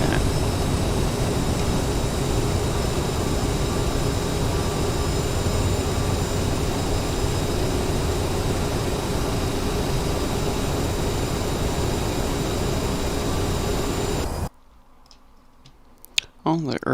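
Steady cockpit hum and broadband rush of a CRJ-900 regional jet in Flight Simulator X, descending on a flight from Lubbock to Dallas/Fort Worth; the loud constant drone runs for about fourteen seconds, then cuts to near silence with a few faint clicks.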